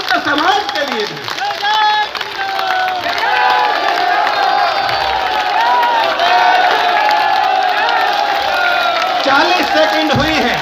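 Large rally crowd in Jodhpur claps and cheers continuously, a dense roar of applause with whoops and shouts rising over it throughout, some voices audible within the noise.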